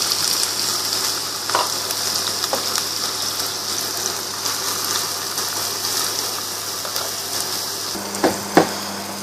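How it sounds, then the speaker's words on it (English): Onions fry in oil in a pan with a constant close hiss of sizzling, a few sharp pops near the end, and no talking. "Here firstly we are adding our oil and our onions to it."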